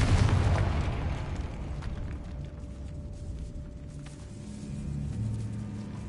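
A Confringo blasting spell goes off in Hogwarts Legacy: a deep booming explosion hits right at the start, then settles into a rumbling decay with faint lingering tones from the game.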